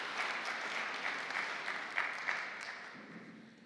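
Steady audience applause at the launch of a provincial anti-substance abuse forum, a room full of hands clapping together, moderately distant, holding at an even level before tapering off at the end.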